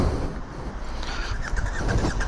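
A faulty motorcycle engine starts up on its own, heard as a rough, uneven rumble with squealing tones that grows louder toward the end, and no one speaking over it.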